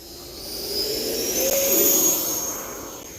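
An E-flite Viper 90mm EDF model jet makes a high, rushing electric-fan whine as it swells in on a flying pass, peaks loud overhead, then fades slightly as it moves away.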